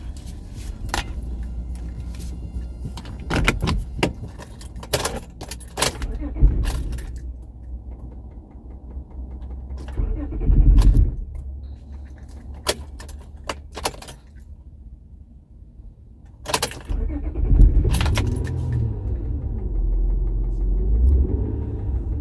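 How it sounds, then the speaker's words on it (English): A car engine cuts out and is cranked back to life during a drive to Walmart, with keys rattling in bursts and low engine rumbles swelling near the start, middle and end, close up and with no talk. "Uh-oh, my car just stopped on me."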